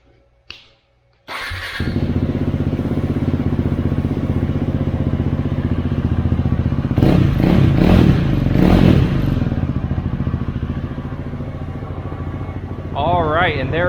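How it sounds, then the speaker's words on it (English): A motorcycle fitted with a LeoVince LV-10 exhaust starts up and idles with a loud, steady throaty rumble, then revs up in a swell before settling back to idle; a brief voice comes at the end. "let me clean all this up, and then we'll fire up the exhaust and give it a listen."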